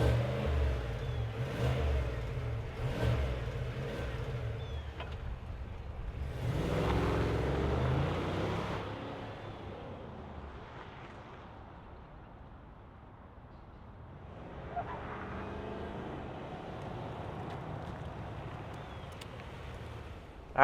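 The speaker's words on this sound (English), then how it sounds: "let's fire it up and hear what that V8 sounds like" A 2025 GMC Yukon AT4 Ultimate V8 fires up and revs, with a loud surge that settles into a quieter idle before a second rise in engine note.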